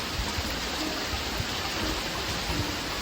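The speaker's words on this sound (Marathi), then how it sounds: "आता तर जोरदार पाऊस येतो" Dense, steady hiss of heavy rain pouring down at Matheran, continuous and even throughout, with no voices.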